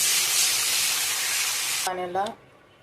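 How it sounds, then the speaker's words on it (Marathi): Warm water hitting a hot pan of sautéed onion, chili, curry leaves and tomato gives a loud, broad sizzling hiss for nearly two seconds, then a short clatter and a quieter tail as it settles. "मध्ये घालूया कोमट केलेलं पाणी"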